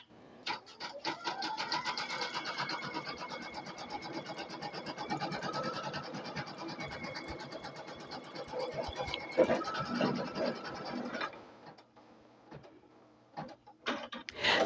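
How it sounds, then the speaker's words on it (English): Embroidery machine stitching freestanding lace earrings with embroidery thread, a fast rhythmic needle clatter running steadily up close for about eleven seconds, then pausing with a few scattered clicks near the end. "we're just going to go ahead and let it finish stitching"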